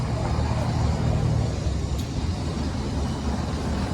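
Cars pass both ways along a one-way street torn up for construction, making a steady rumble of nearby traffic with no talk over it.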